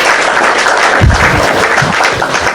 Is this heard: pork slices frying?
no